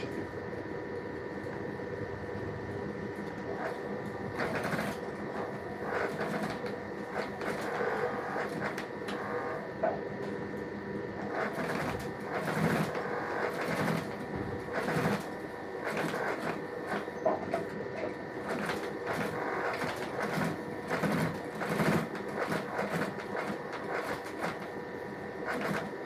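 A sewing machine double-stitches a shoe in a workshop, running in repeated rattling bursts with short pauses over a steady mechanical hum for the whole stretch, with no voices.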